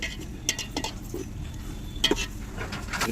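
A spoon stirring chili powder into biryani masala in a pan: a steady scraping and stirring texture with a soft sizzle beneath and a few light metallic clinks.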